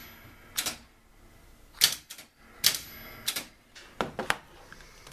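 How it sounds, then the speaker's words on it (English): A switched-on spotting solenoid on a machine clicks sharply about eight times in irregular bursts, crisp mechanical snaps with short gaps between them and no talk. "This switch controls the spotting solenoid."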